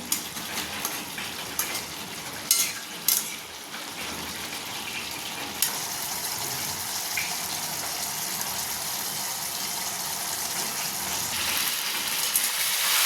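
Chicken cooks in an uncovered pan over raised heat as the leftover water boils off, a steady, fairly quiet bubbling hiss with a few early clinks, growing slightly louder toward the end.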